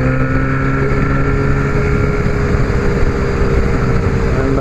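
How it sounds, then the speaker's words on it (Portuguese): A Honda CB1000R Black motorcycle engine drones steadily while riding on a mountain road, a continuous loud low rumble with harmonic tones, mixed with wind rush and no speech. "aí fica o ronco"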